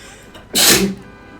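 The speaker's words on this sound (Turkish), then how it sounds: "ben de bir hapşırığımı atayım" A single sharp human sneeze, close and loud, a short burst rising out of quiet background.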